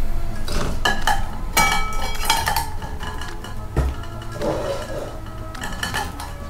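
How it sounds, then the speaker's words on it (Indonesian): Metal clinks and clatters from handling a small Trangia mini alcohol-stove saucepan and cookset pieces, with repeated sharp knocks and scrapes at close range and no talk. "menggunakan saucepan seperti ini."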